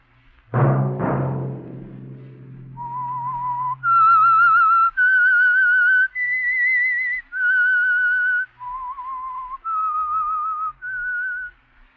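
A whistled theme tune serving as the signal for the radio mystery program The Whistler, opening with two low struck tones and then a clear melodic line of sustained whistled notes, loud and alone.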